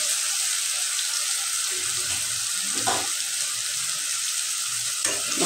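Spice paste with ground green chili, ginger and salt fries in a pan with a steady close hiss and sizzle, broken by a couple of brief stirring scrapes.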